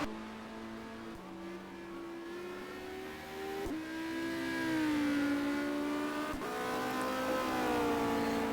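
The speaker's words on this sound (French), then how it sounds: "Et la BMW hein, qui rattrape la Honda en ligne droite." Touring cars from the 1990 World Touring Car Championship, a BMW catching a Honda on a straight at Le Mans, with engines droning and climbing in pitch through upshifts, heard from a distance and building in loudness.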